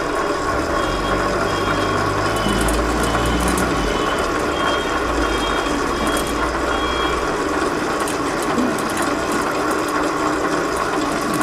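An Advent Model 200 aerosol can labeling machine runs steadily, close and loud, with continuous mechanical clatter, ratcheting gears and a repeating electronic beep.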